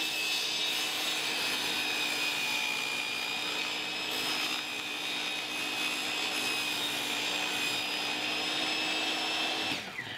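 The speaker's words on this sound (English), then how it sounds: "run the table saw sled over the saw blade as it's raised up over top of here" A table saw blade raised through a crosscut sled cuts a line into it, a continuous whining buzz with a steady high tone that holds for about ten seconds and then drops off abruptly.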